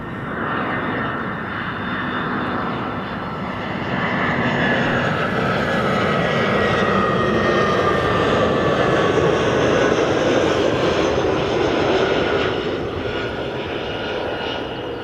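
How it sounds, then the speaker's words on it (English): An EasyJet airliner at Bristol Airport roars loudly and steadily, its engine noise swelling and holding as it passes close by, with no talking. "That's the EasyJet"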